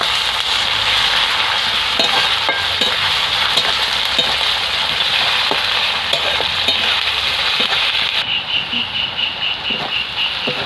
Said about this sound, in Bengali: তো রসুনটাকে আমি লাল লাল করে ভেজে নেব।